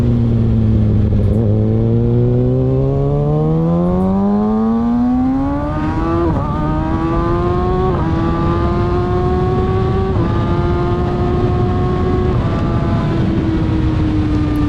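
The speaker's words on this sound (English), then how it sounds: "Gotta love how this bike sounds. Ever since I put that exhaust on it, it's so good." A 2020 Kawasaki ZX6R sport motorcycle with a loud aftermarket exhaust holds a steady, throaty drone and climbs smoothly in pitch as it accelerates, with no voices.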